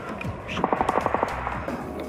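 A rapid burst of about seven gunshots cracks out in quick succession, fairly distant, during combat in the war in Ukraine, with a faint voice and background noise around it.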